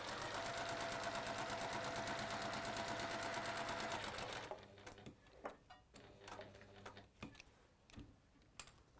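A sewing machine fitted with a walking foot stitches fabric in a fast, steady mechanical rattle for about four seconds, then stops, leaving scattered clicks and handling taps.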